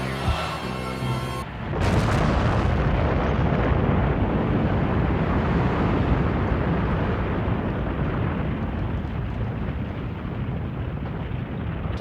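A wall collapsing, a sudden massive rumbling crash that breaks in after a short musical passage and keeps roaring as a loud, sustained wash of debris and low booms with no voices.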